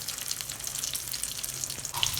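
Garlic, around 20 to 25 cloves, sizzles in melting butter in a pan for white sauce pasta, a soft crackly hiss with scattered pops, fairly quiet throughout.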